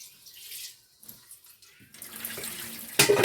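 Water from a kitchen tap splashes into a sink while a pudding pan is washed, starting faint and swelling into a louder, close rush near the end.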